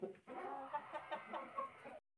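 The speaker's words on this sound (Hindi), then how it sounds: "प्योर तमिल नस्ल का मुर्गा दोस्तों, देख सकते हो पहला मुर्गा है" A pure Aseel rooster, black-feathered and about 4 kg, clucks close by in a quick run of short repeated calls.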